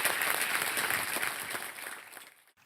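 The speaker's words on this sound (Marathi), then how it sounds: "टाळ्या जरा जोरदार वाजत राहिल्या पाहिजे" Audience clapping at a Mangalagaur women's festival event in 2024, welcoming a judge onto the stage; steady dense applause from a crowd that fades out near the end.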